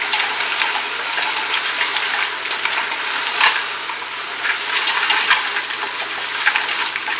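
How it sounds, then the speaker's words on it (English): Tomato paste for lobster stock cooks in a hot pan, a loud, dense, continuous sizzle with crackling bursts as it is stirred, close up and steady with no voices. "Give that a nice stir."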